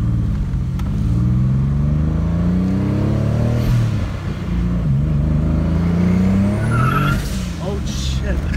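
A turbocharged Acura Legend accelerating hard through second gear, a loud, close engine note rising in pitch from inside the car with a whistle near the end, while people talk over it.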